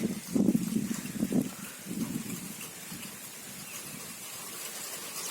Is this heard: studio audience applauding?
no